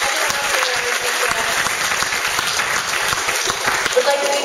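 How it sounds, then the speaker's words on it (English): Audience applause at a Rochester School for the Deaf graduation ceremony, a dense steady clatter of many hands clapping at close range for the full length, with a brief louder swell near the end. "Please also give a round of applause for our teachers, staff, friends, and everyone else here at RSD"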